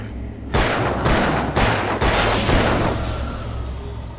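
Several heavy revolver shots boom out in quick succession in the video game Alan Wake, each a loud broadband blast with a rumbling tail, about five in a row before fading into a low hum.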